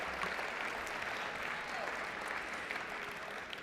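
A room full of people claps steadily at an athletics awards banquet, dense and even applause without a break.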